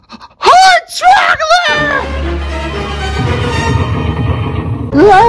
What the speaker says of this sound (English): Why are you gasping about?